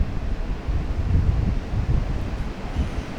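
Ocean surf breaking against rocks on a January day, with waves hitting a rock face roughly three stories above the water; a steady low roar of churning water and wind buffeting nearby, continuous and fairly loud, with no voices.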